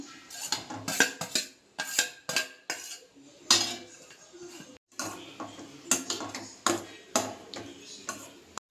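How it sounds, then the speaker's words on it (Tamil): Cooked rice stirred into a lemon rice mixture in a pan, with a spoon scraping and clanking against the metal in repeated sharp strokes and brief pauses, close and fairly loud. "இப்போ சாதத்தை போட்டு கிளறிடுவோம்"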